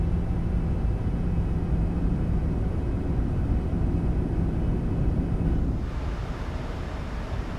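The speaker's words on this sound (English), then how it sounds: "Go to flaps 5. I just love these flap sounds" Flaps extend to position 5 on a PMDG 737-800 in a flight simulator, a steady rushing cockpit drone and airflow roar that continues and then drops slightly in level near the end.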